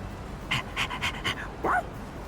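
A dog in the Persona 3 Reload video game gives a quick run of four or five short, soft rhythmic barks or pants, then a rising whimper, heard over a steady background hum.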